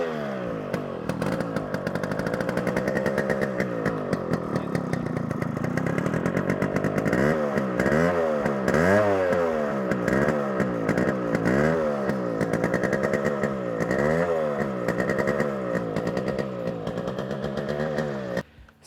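A restored Yamaha RXG two-stroke motorcycle engine idles with a rattly buzz, then revs up and down repeatedly in short bursts, close and steady throughout.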